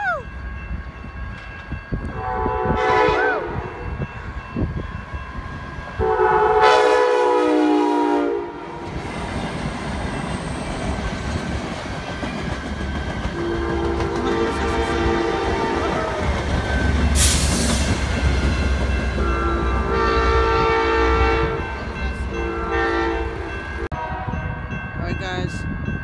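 An Amtrak Cascades passenger train passes by the Puget Sound in December, sounding several loud horn blasts over the rumble and clatter of its cars, while a person speaks nearby.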